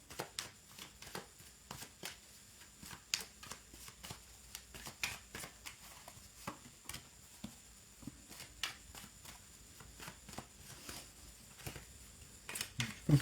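Oracle cards being shuffled by hand, a quiet indoor sequence of soft, crisp riffling flicks and slaps in irregular bursts, close and faint, with no talk.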